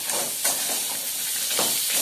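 Onion, ginger and garlic sautéing in a pan for chicken kola urundai, a steady steamy hiss and soft sizzle with faint stirring, close and continuous, with no voices.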